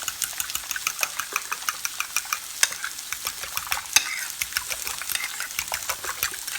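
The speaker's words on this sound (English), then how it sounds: "And we'll beat that in." Farm fresh eggs and Romano cheese beaten together in a bowl, a quick, steady rhythm of clicking whisk strokes against the bowl over a soft background hiss, with no talking.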